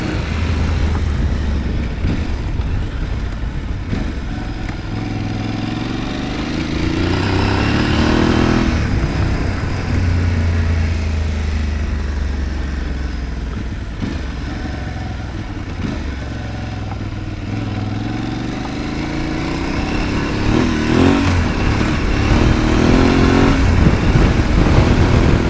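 An Aprilia Tuareg 660 motorcycle being ridden, its engine loud and close as it revs up and down through rising and falling pitches, with steady road and wind noise underneath.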